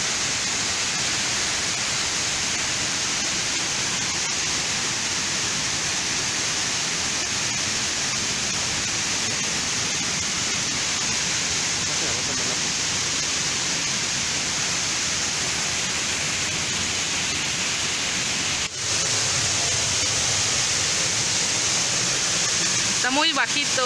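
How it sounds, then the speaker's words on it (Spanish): A waterfall in Chiapas roars from behind its curtain of falling water, a constant, loud, hissing wash that stays even throughout and grows slightly stronger near the end. "Estamos detrás de la cortina de agua."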